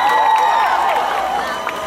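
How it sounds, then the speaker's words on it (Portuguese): A live audience claps and cheers for the band at a stage show, a dense wash of applause and shouting that holds steady and slowly fades. "Uma salva de palmas à nossa banda, à nossa equipe,"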